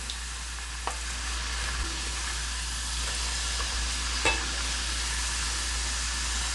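Conch pieces frying in hot oil, a steady broadband sizzle and hiss with a few small pops and crackles, continuous and fairly close, no voices.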